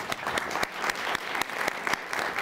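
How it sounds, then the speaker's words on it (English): Studio audience applause on a Connecticut TV talk show, dense steady clapping with a few sharper claps standing out, moderately loud and continuous without voices over it. "can we give him a nice round of applause?"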